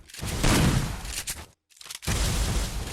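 Rapid gunfire from the video game Free Fire during headshot practice: dense bursts of shots that stop abruptly for a brief silent gap, then resume just as loud.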